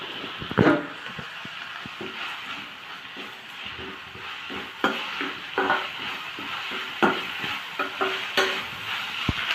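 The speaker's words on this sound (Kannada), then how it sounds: "ಟಮಾಟೆ ಹಣ್ಣು, ಈರುಳ್ಳಿ, ಹಸಿಮೆಣಸಿನ್ಕಾಯಿ ಈ ಥರ ಎಣ್ಣೆಯಲ್ಲಿ ಇದೆಲ್ಲ ಚೆನ್ನಾಗಿ ಫ್ರೈ ಆಗ್ತಾ ಇದೆ" Tomato, onion and green chili fry in oil for a veg Maggi masala, a steady bright sizzle with repeated scraping stirs and clatter of a spoon against the pan, close and continuous with no voices.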